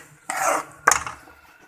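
A utensil scrapes twice through carrot halwa and sugar in a pot over a low flame, two short rasping strokes with a brief gap between them, close and clear.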